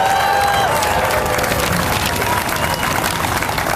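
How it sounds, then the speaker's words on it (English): A crowd at a March for Science rally claps and cheers for teachers, a loud continuous roar of applause with voices mixed in throughout. "can we have some applause for all the teachers in our lives"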